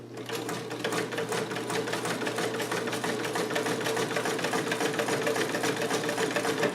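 Vintage blue Sovereign sewing machine running at speed, a rapid, even mechanical clatter of stitching over a steady motor hum, close and continuous with no pauses.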